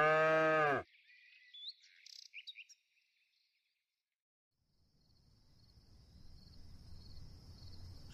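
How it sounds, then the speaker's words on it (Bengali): Cattle on a farm give one loud, close moo at the start, followed by scattered bird chirps, a stretch of near silence and a low rumble that builds at the end. "গরুগুলো খেতে খেতে মাঝে মাঝে হাম্বা হাম্বা করে উঠছে।"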